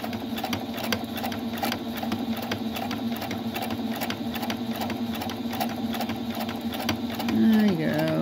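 Singer Patchwork 7285Q sewing machine stitching steadily, a close, continuous rapid mechanical whir with fast rhythmic needle clatter that shifts slightly in pitch near the end as it slows.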